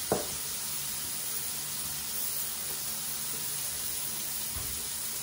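Garlic and ginger sauté in a hot pan with a steady, close hiss of sizzling oil, broken by a few faint clinks and stirs.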